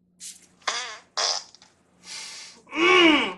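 A string of five short, wet fart noises sounds in quick succession during a stage comedy sketch in a variety show, each burst distinct with brief silent gaps and the last one longest and loudest.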